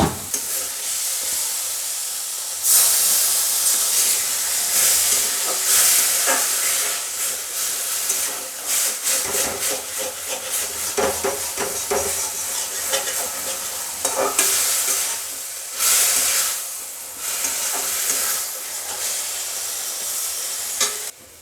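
Water poured into a hot pan of fried spices, drumstick flowers, potatoes and bori brings a loud bursting sizzle and steam hiss, with repeated stirring scrapes up close.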